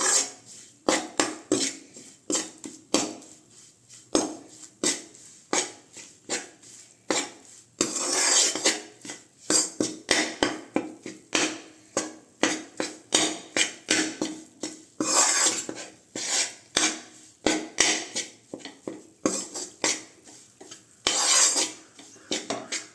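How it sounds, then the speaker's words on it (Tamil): Gram flour roasting in ghee in a pan over medium-low heat for dates halwa, stirred without pause so a ladle scrapes and knocks against the metal pan in a quick, steady rhythm throughout. "அடுப்பை மீடியம் லோவில் வச்சு நீங்கள் கைவிடாமல் நல்லா கிண்டி விட்டுக்கோங்க."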